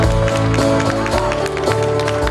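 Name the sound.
applause at a GERB political event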